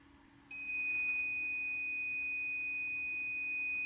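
A PYD tumbler press gives a clear electronic beep that starts after half a second and holds as one steady tone, with a faint hum beneath it.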